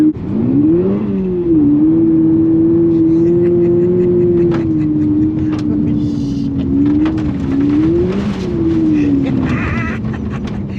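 A small car's engine revs hard while driving, a loud, close buzzing drone that climbs, holds steady, then swells again, with faint voices underneath.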